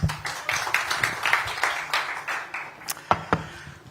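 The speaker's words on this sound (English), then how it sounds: "Round of applause for him" An audience at a tech congress gives a mentalist a round of applause. The clapping is light and uneven, with a few distinct sharp claps standing out from the sparse patter.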